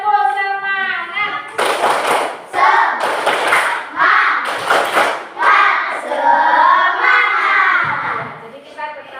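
A Grade 4 classroom of children performs a rhythmic clapping cheer, with hard unison claps and thumps punctuating their chanting voices throughout.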